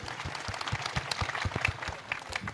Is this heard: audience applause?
yes